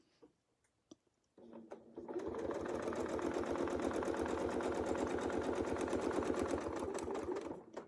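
A sewing machine fitted with an arc and curve template stitches in a steady, fast mechanical whir for about six seconds, close and clear after a few soft taps at the start.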